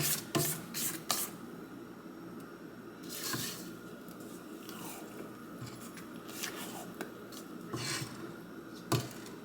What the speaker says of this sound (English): Now I'm going to give that a little bit of scrape down.